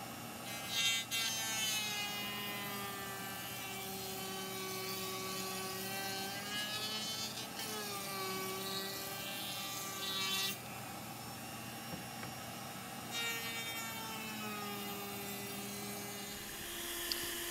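A router fitted with a 3/16 inch radius roundover bit with a ball bearing rounds wood edges, a steady high-pitched whine with shifting tones as it moves along the workpiece, accompanied by a continuous vacuum hiss.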